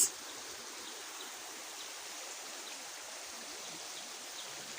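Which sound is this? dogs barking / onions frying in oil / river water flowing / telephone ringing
river water flowing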